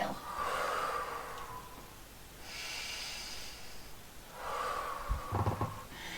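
A Pilates instructor exhales audibly during a lunge, two long breathy rushes of air with a shorter breath between them, close and fairly soft, with no talking.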